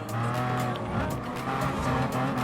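A white and gold Enzo Ferrari race car in Gran Turismo Sport drives with a steady engine roar and occasional tire squeal, loud and continuous throughout.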